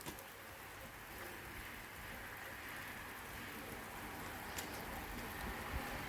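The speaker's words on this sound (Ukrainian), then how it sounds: "Цілий божий день дощ. Л'є, л'є і л'є." Rain pours steadily all day outdoors, a faint, even hiss that continues without a break, with a few slightly louder drips standing out.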